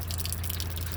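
Water draining from a truck's fuel water separator, a short steady trickle and spatter of liquid close by under a low engine hum.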